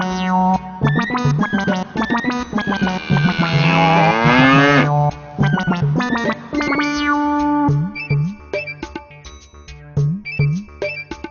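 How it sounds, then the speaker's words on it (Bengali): A bull bellows with loud, drawn-out moos, one rising into a long strained groan, then shorter grunting calls, close and clear with an effect-like, processed edge. "আমি একটা ষাঁড়ের আওয়াজ শুনতে পাচ্ছি।"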